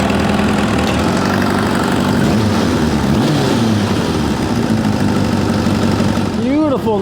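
Kawasaki GPZ900R motorcycle engine idling steadily at about 1,000 RPM after a carburetor sync, a loud continuous low throb that holds even throughout, with a brief rising tonal sweep near the end.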